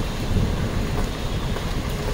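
Rain pours down steadily in stormy weather, a loud, dense, continuous hiss and rumble with no gaps and no voices.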